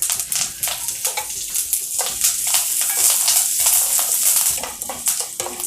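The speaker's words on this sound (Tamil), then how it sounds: "நல்லா செவக்க வறுத்தாச்சு" Dal, dried chillies, peppercorns and curry leaves roast in a pan, producing a bright crackling sizzle broken by rapid repeated scrapes and clinks of a spoon stirring, close and fairly loud.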